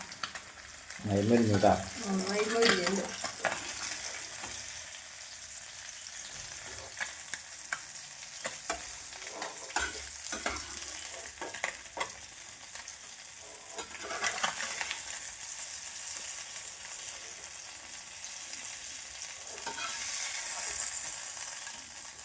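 Hook-and-line-caught fish frying in hot oil gives a steady, close sizzle and crackle, loudest in the first few seconds, with occasional scrapes and stirring clatter as pieces are turned, and no talking.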